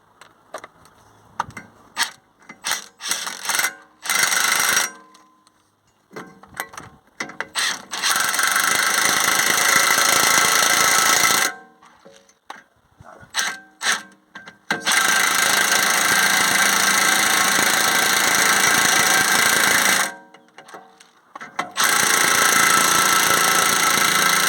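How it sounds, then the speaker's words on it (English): An impact gun drives wheel bolts into the hub of an Audi A6 during a front wheel bearing replacement. Several long, loud buzzing bursts lasting a few seconds each are separated by short gaps and clanking handling noises. "So I just got to put them in with the gun, because they're not going in far enough yet."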